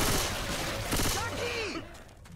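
Rapid gunfire in Left 4 Dead on the Crash Course campaign, a loud close burst of overlapping shots that fades out after about two seconds.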